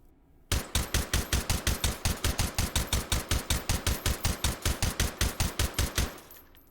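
Suppressed Mini-14 rifle fire in the VR game H3VR: a rapid string of about thirty evenly spaced, punchy shots over several seconds, close and loud, with no talking.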